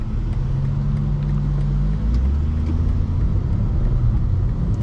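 BMW M2 G87 with an M2CS tune, steady low engine and road rumble from inside the car, continuous and droning, with subtle shifts in tone as the transmission changes gears.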